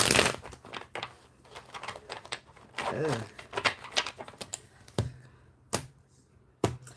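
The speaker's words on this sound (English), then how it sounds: "When I write the time step down, I got to shuffle a little bit more." A deck of tarot cards is shuffled by hand, giving a close run of quick riffling and flicking bursts broken by short pauses.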